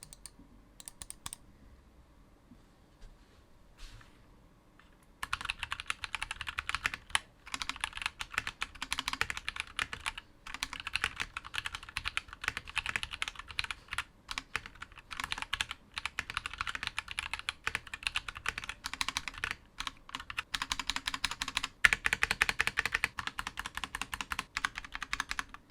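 Typing on an ROG Falchion Ace gaming keyboard with a plastic case and small aluminum top, quiet at first, then a rapid, continuous stream of close, crisp key clicks and clacks.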